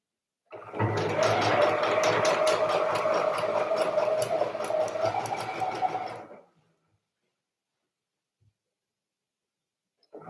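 A sewing machine runs a continuous seam on a blouse, a close, steady mechanical whir lasting about six seconds before stopping abruptly into silence.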